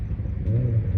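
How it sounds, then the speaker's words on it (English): A fast car's engine rumbles low and steady, swelling slightly in the second half as it revs and pulls away, loud and close without any voices. "That's a really fast car"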